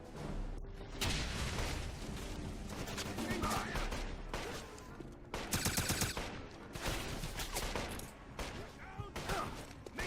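Gunfire and a grenade blast in the 2009 Xbox 360 shooter Wolfenstein, with bursts of automatic fire and a louder booming hit partway through, under a talking voice.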